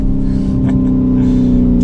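Lamborghini Urus SUV in Corsa mode, its engine and exhaust holding a steady, deep rumble with a strong low drone heard from inside the cabin.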